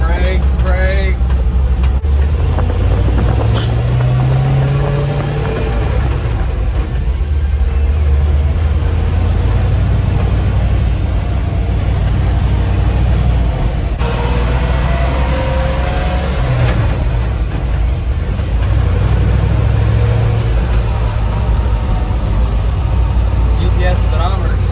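An old 1968 Chevrolet Suburban drives along in third gear with a steady, loud engine drone and rumbling road noise heard from inside the cab. Engine pitch shifts now and then, and people talk over it throughout.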